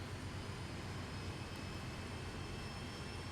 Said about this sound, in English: The dynamic brakes are kicking on.